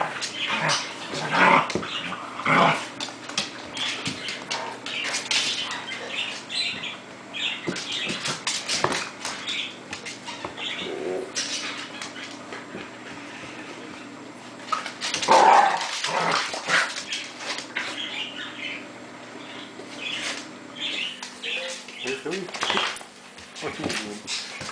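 Dog barking and growling in rough play with a puppy indoors, with repeated yips and bursts spread throughout, close by, under frequent excited talk from a person.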